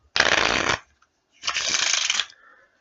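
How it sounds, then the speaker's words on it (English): A deck of playing cards being shuffled by hand for a magic trick, two distinct riffling bursts of crisp fluttering card noise, close and fairly loud, separated by a short pause. "first I'll give the cards a shuffle."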